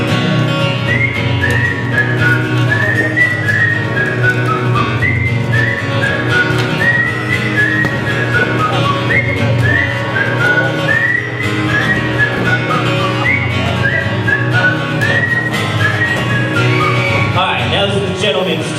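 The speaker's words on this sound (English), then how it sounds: "Ladies, pucker up and let's whistle." Women in an audience whistle together in a long, sustained chorus of overlapping, rising and falling tones, loud and continuous in a large room.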